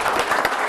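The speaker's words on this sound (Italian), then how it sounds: "un applauso a Daniele," A dense burst of audience applause at an Italian motorcycling federation gathering, a brief wash of many hands clapping at steady volume.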